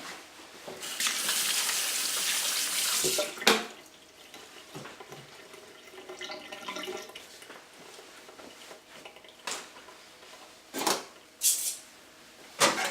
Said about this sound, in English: Now I am going to wash my hands because I've been touching onion.